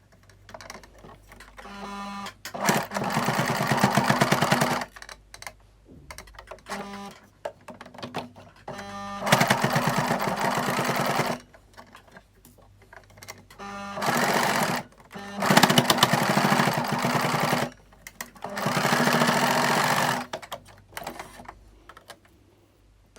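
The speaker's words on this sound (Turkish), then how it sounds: "incecik bir dikiş olabildiğince ince bir dikiş e, atıyorum" A sewing machine stitches a thin seam on a satin scrunchie in several loud, close bursts of rapid rhythmic chattering, each a few seconds long, separated by quieter pauses with faint handling sounds.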